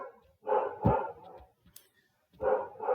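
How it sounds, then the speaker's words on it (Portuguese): A dog barks indoors nearby in two loud bursts of several rough, rapid barks, separated by a pause of more than a second. "meu cachorro tá latindo"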